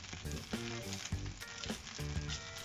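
Lamb coconut rice sizzling in a pan, a steady, close frying hiss and crackle with faint tonal sounds underneath.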